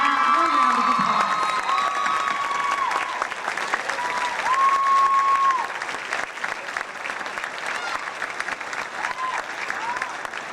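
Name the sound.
audience applause at an awards ceremony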